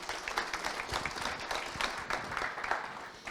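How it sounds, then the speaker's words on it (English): Steady audience applause of many hands clapping at a faith-based fitness gathering, dense and continuous throughout, moderately loud with no voices on top. "Yeah, please clap for her."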